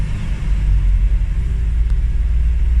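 A car engine with a misfire, low idle and vibration runs close and loud as a deep, continuous low rumble with a slightly uneven pulse, and no voices over it.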